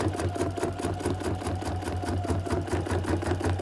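An embroidery machine stitches around the outside of its hoop while making a greeting card, a steady, close, rapid mechanical chatter with even rhythm and no pauses.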